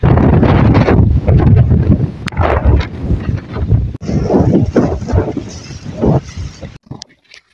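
Strong wind gusting across an open farm field, roaring and buffeting loudly and close up, with intermittent bursts and brief lulls before it cuts off near the end.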